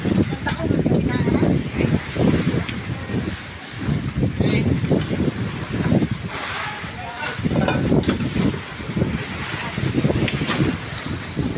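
Wind gusts across the open sea around a fishing boat, roaring and buffeting in uneven surges, with someone talking under the rush.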